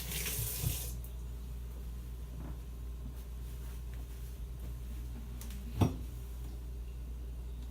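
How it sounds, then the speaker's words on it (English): A kitchen faucet runs as hands are washed while cooking ramen, a faint steady stream of water over a low background hum, with one brief knock near the end and no voices. "let me wash my hands again"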